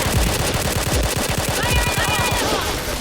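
Rapid automatic gunfire from the shooter game Point Blank, a dense rattling burst of shots repeating fast and loud for a few seconds, close and continuous with hardly a pause.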